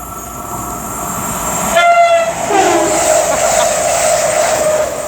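A Class 220 CrossCountry train sounds its two-tone horn as it approaches, two short clear notes over a rising rumble of the passing train, loud and close.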